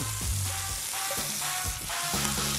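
Chopped vegetables hitting a hot pan beside seared lamb shanks for a braise, giving a steady close sizzle and frying crackle with faint stirring, no talk.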